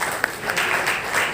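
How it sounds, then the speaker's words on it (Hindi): A seminar audience applauds to welcome a speaker onto the stage, a steady wash of many hands clapping at moderate loudness across the whole short stretch. "तो एक बार जोरदार तालियों के साथ हम सर को बुलाना चाहेंगे।"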